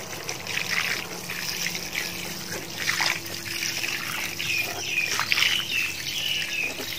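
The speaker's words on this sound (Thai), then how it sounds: "จากนั้นนะคะรดน้ำลงไปอีกรอบนึงนะคะ" Water poured onto the soil of a potted caladium plant, a soft steady trickle running throughout with birds chirping around the garden.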